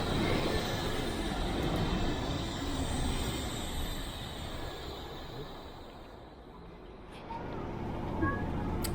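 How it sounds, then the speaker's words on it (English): The Wuppertal Schwebebahn suspended monorail pulls away from a station, its steady rumbling whir fading somewhat midway before swelling again, while a second train approaches from the opposite direction. "And we were off, just as another train was pulling into the station from the opposite direction."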